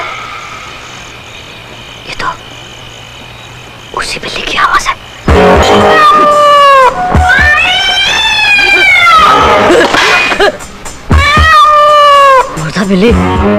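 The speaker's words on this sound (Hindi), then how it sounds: "ये तो उसी बिल्ली की आवाज है।" A cat meows and yowls in a drawn-out, wavering way several times, loud and close, with quieter rustles and thumps in between, in a scene from an old Hindi horror film.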